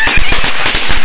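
Diwali firecrackers go off in a loud, rapid string of sharp cracks and pops, close by and continuous throughout with no talk.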